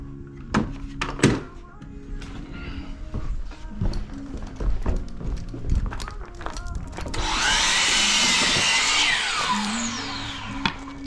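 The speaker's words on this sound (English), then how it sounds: "let's go finish cutting our skirt board out" A wooden stair skirt board is handled with knocks and thunks of wood and clamping, then a power saw cuts through it in a loud sustained whine near the end, with some talking early on.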